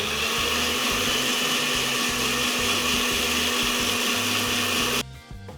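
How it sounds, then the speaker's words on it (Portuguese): An electric mixer beats gluten-free bread dough with a loud, steady motor whine and a rhythmic churning pulse, running continuously and then cutting off abruptly near the end. "vou bater mais um pouquinho antes da gente colocar o sal"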